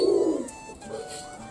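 Pet pigeons coo softly and close by in a home setting, one low, throaty murmur strongest at the start and then fading into quieter, intermittent coos.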